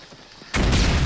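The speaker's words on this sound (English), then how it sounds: "There's so many unexpected explosions." In the 2008 film Rambo, a sudden loud explosion erupts with rapid gunfire after a quiet moment, the blast filling the space with a dense, roaring burst.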